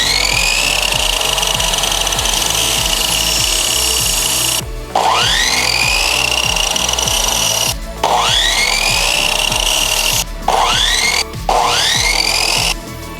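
Power tool cuts an intercooler pipe bend for a turbo install on a Mazda B2200 mini truck, a steady loud whine broken by several short pauses and restarts, close up and without speech.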